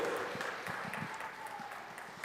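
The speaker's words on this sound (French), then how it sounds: "On l'applaudit." Applause from a church congregation at a Christmas Eve youth and children's Mass, a steady patter of many hands lasting a couple of seconds at moderate volume.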